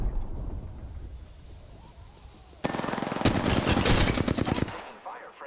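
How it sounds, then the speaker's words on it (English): Video game gunfire in Apex Legends, quieter at first, then a sudden burst of rapid automatic shots that rattles on for about two seconds before cutting off. "Taking fire, friends."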